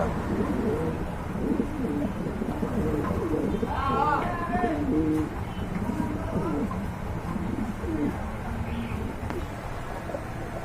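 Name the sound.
pigeon cooing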